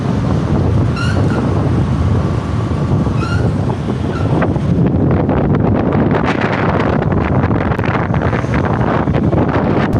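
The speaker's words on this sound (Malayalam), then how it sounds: "അങ്ങനെ നമ്മൾ ബസ് സ്റ്റാൻഡിനകത്തോട്ട് ബൈക്ക് പോയിക്കൊണ്ടിരിക്കുവാണ്" Steady, loud wind roar and buffeting on a Bajaj Discover motorcycle riding into Koyambedu bus stand in Chennai, continuous for the whole stretch with no voices.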